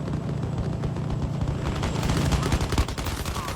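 Dense bursts of gunfire in the VR shooter game Zero Caliber, rapid overlapping shots rattling steadily throughout at a loud level, with no voices over them.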